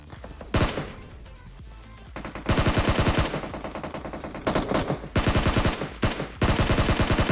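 Gunfire in the mobile shooter PUBG Mobile: loud, close automatic bursts in several rapid strings, separated by short pauses and a single earlier shot, with no voices.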